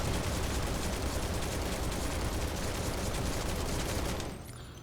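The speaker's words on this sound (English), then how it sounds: "So let's go ahead and shoot down the wall." Dense, sustained gunfire in Final Fantasy VII Remake as a wall is shot down. The rapid, loud bursts blend into a continuous roar for about four seconds, then cut off abruptly.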